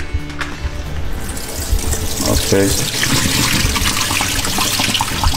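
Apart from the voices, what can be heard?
pouring water with goldfish into a PVC pipe aquarium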